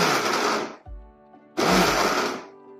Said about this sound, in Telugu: తిప్పుకుందాం మిక్సీని